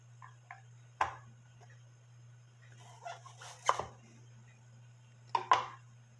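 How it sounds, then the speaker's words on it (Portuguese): A kitchen knife slices through an onion into rings, giving a few sharp, close chopping knocks on a cutting board, spaced irregularly with quiet pauses between them. "para fazer os anéis de cebola, o nome desse corte é boulanger"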